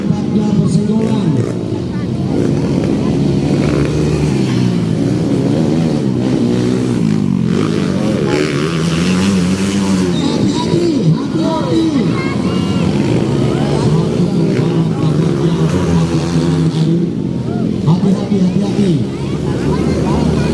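Motocross motorcycles racing on a dirt track in Central Sulawesi, engines droning steadily and loudly throughout with rising and falling revs, while a commentator talks continuously over the noise.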